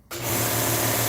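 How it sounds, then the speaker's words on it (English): An air compressor kicks on abruptly and settles into a loud, steady motor drone with a humming, buzzing tone, close by and alone. "Air compressor."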